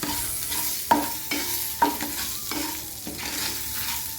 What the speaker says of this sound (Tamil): இந்த சூட்லேயே தேங்காய் லைட்டாக வறுத்தா போதும் ஒரு ரெண்டு ஆறு கருவேப்பிலை